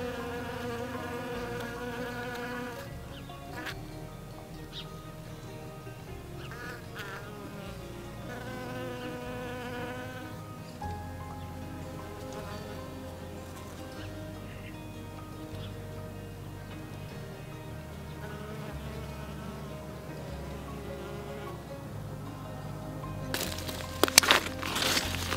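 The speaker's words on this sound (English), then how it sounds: "Got some really good footage of the bee activity here early in the morning" Bees buzz steadily around squash plants in a farm garden on a fall morning, a continuous close drone running the whole time with no talking, a few brief sharper noises near the end.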